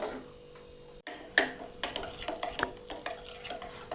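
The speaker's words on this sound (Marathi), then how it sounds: "ह्याला गरम करून घ्यायची आणि सारखी ना हळद अशी हलवत राहायची" Turmeric being stirred while it heats in a pan makes quick scraping and clinking strokes, repeated in an irregular rhythm, close by and fairly quiet after a short pause.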